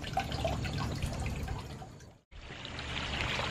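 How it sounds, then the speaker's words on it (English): Water pours into a freshly cleaned spillway bowl and basin, a steady trickling splash that runs on, cuts off briefly, then resumes, close and fairly quiet with no talking. "And now we just add water."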